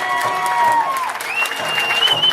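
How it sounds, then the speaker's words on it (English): An audience applauds a young performer at a Native American music and dance event, a continuous wash of clapping with sustained tonal music ringing over it. "I think we should just give him one more great round of applause."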